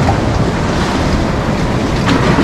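Sea waves break continuously on the shore at Lazarevskoye in Sochi, a loud, unbroken roar of surf mixed with buffeting wind on the microphone and no voices.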